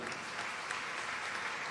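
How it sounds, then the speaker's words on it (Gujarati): A crowd at a devotional katha gathering applauds the organising team, with even, sustained clapping from many hands at moderate distance. "ખરેખર બધાને તાળીઓથી વધાવી લો."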